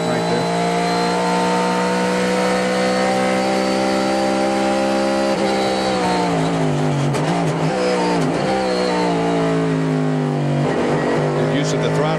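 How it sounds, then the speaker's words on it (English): A 2001 Trans Am Series race car at Mid-Ohio, its engine droning loudly and steadily, then dropping in pitch and blipping through a downshift with revving surges, as a commentator talks over the motor throughout. "You heard the gear go in with the little clunk, but the motor was revved perfectly for the downshift."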